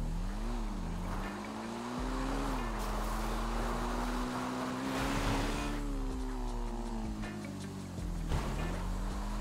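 Motorbike revving hard through a wheelie toward a cliff edge in GTA Online, a steady loud engine drone with shifting pitch and a short rise and dip midway, up close with no talking.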